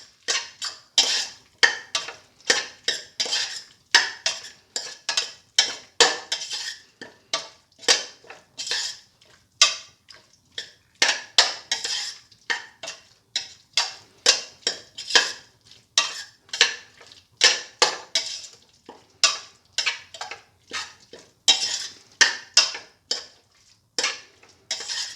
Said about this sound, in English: Start and mix thoroughly.